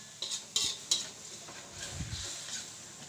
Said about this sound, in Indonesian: Kita tumis-tumis bumbunya hingga harum teman-teman, hingga matang.